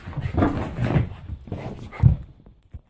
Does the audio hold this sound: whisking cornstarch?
no